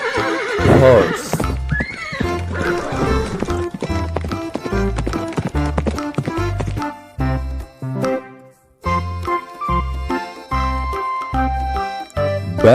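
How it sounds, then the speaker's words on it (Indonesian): A horse whinnies loudly at the start, then its hooves clip-clop in a steady, close rhythm with a brief pause partway through. "horse."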